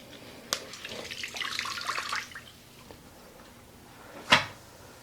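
A mop sloshes pine-oil wash across a floor in a splashy burst lasting about two seconds. A sharp knock comes before it and another knock follows later against quiet room background.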